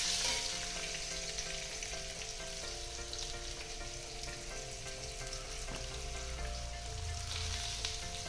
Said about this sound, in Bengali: আলুটা একটু ভেজে নেব তেলের মধ্যে, তারপরে লাউ দেবো।